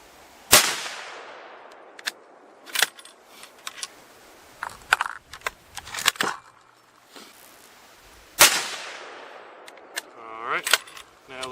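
A Remington 700 in .30-06 fires handloaded rounds at a 100-yard range, with two sharp, loud shots several seconds apart and bolt clicks and handling noises between them.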